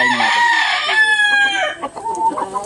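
A red junglefowl rooster crows loudly and close, a long drawn-out call followed by a few short clucks.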